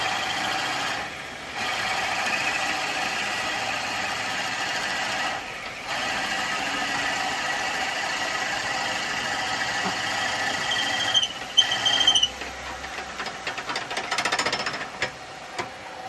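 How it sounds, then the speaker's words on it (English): A drill bit boring into wood on a lathe makes a continuous grinding, buzzing drone, steady and fairly loud, with a few brief louder rattles near the end; no voices. "Seems to be drilling all right"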